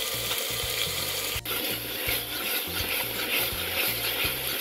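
Coriander, red chili and turmeric masala roasting in a pan with tomatoes for lauki sabzi, a dense continuous sizzle and hiss with a steady scraping, clattering rhythm of stirring running underneath, close and constant throughout.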